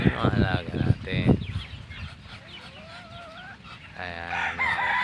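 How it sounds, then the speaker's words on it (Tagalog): Farmyard chickens, including Rhode Island birds, cluck loudly up close while a rooster crows partway through, with ducks among the flock at feeding time and a person's voice breaking in now and then. "Ayan, yung mga manok, bibe."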